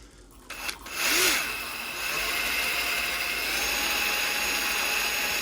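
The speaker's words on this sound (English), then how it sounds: "I've got these sort of wire brush drill bits" A power drill fitted with a wire brush bit spins up and scours rust off plumbing parts, a harsh rasping whir that rises sharply at first and then holds as a steady, loud abrasive grind.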